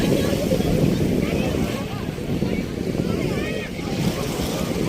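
Sea waves and rough wind noise at a beach, a continuous loud wash of water and microphone buffeting, with speech likely mixed in.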